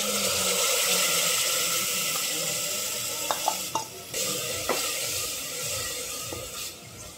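A spoon scrapes and stirs spice mix through thick yogurt in a bowl, with a few soft clinks against the side over a constant background hiss.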